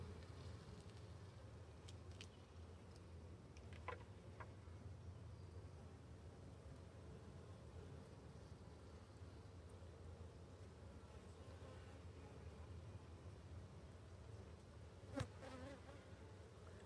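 Honeybees buzzing in a steady, soft drone around an open hive during a beehive inspection, with a few faint clicks and knocks scattered through the continuous hum.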